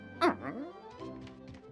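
A dog in the Blue Toad Murder Files game gives one sharp, close bark followed by softer whimpering yips.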